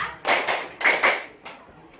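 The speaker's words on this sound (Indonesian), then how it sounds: "Tepuk 1, tepuk 2, tepuk 3, tepuk 4" Rhythmic group clapping in a classroom, heard as bursts of claps in counted clusters of one, two, then more, close and fairly loud, with pauses between the groups.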